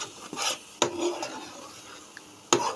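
Watermelon laddu mixture with milk being stirred continuously in a pan, giving a few sharp scraping knocks of the spoon against the metal with soft rubbing between them, close and fairly quiet, with no talk.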